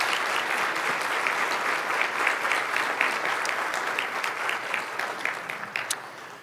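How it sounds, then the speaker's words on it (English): At a university conference keynote, a large audience applauds in a steady, dense wash of clapping that holds for several seconds before starting to taper off. "Let's give them a round of applause"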